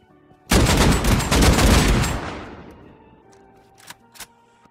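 Burst of AK rifle fire in Rust Console Edition, a loud rapid volley of shots for about two seconds that tails off into a reverberant decay, followed by a couple of faint clicks.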